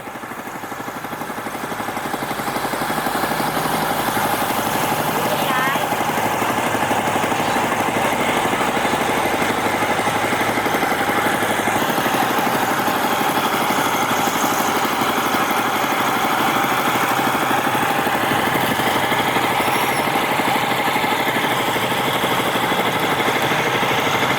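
A loud, steady tourist boat engine drones throughout at a Vietnamese floating market, a constant mechanical rumble with faint distant sounds mixed in.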